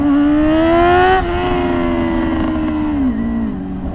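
A 600cc sport motorcycle revving hard, its high whining engine note climbing steadily, dipping at a gear change, then climbing again before easing off, loud and close.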